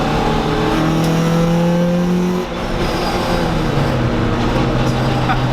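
A Honda Civic EG6 SiR2 hatchback engine revs hard under load through VTEC, its pitch rising in steady sweeps as the car pulls, heard from inside the cabin with road noise underneath.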